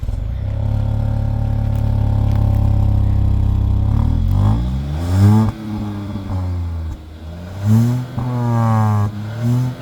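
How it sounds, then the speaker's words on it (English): A Hyundai Venue N Line's tuned exhaust holds a loud, steady drone, then a series of sharp revs rise and fall in pitch, with short blips and dips toward the end, heard up close with no talking. "The exhaust note has been tuned to sound a bit more playful."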